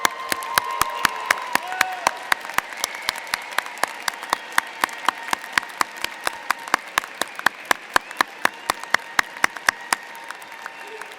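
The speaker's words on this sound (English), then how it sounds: "give them a big round of applause" An audience at a Michigan Ross commencement ceremony for the Class of 2018 applauds with sustained clapping that fills a large hall, thinning gradually toward the end into sparser individual claps.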